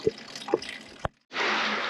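Fluid drips from a hose while a Lexus RC F drains: a few separate liquid drips in the first second, then a short silence before a steady, hissing trickle runs on to the end.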